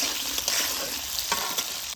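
Potatoes frying in mustard oil in a wok give off a steady, dense sizzle with occasional stirring scrapes, close and continuous throughout.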